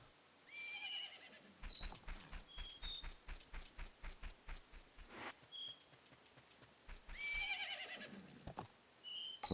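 A horse whinnies loudly in the video game Majora's Mask, then hooves clip-clop in a quick steady rhythm, followed by a brief pause and another long neigh, with faint chirps in the background.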